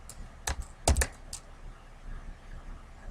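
Keystrokes on a computer keyboard typing a single short word in a word-processing document, a brief cluster of sharp close clicks, mostly in the first second, then quiet room tone.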